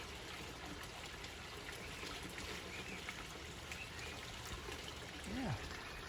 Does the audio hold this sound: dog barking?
no